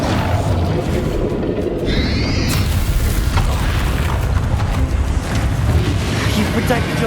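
A Confringo fire spell explodes in Hogwarts Legacy combat, a loud booming blast amid a dense, continuous rumble of battle effects and whooshes, with a brief rising magical tone early on.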